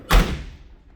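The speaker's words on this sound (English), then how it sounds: "Door shuts nice." A car door on a car under restoration shuts with one solid, close thud that quickly fades into quiet room noise.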